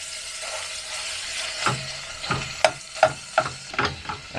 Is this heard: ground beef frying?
yes